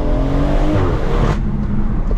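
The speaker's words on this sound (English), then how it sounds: "I prefer to have it in drive and just flatten the throttle, like, then it feels like a proper turbocharged car" A 480bhp stage 2 turbocharged BMW M140i engine revs hard and climbs loudly under full throttle in drive, then the pitch drops away as it eases off.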